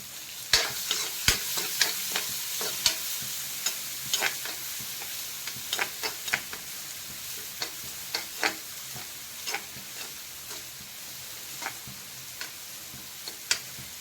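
Chopped onions stir-fry in a pan for a methi dal. A faint, even sizzle runs under sharp spatula clicks and scrapes that repeat at an irregular, unhurried pace for about fourteen seconds, with no voices.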